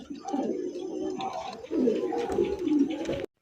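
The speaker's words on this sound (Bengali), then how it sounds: "এ লক্ষ্মী কবুতর এটি" Low, throaty pigeon cooing close by, in two rolling bursts with a brief dip between them.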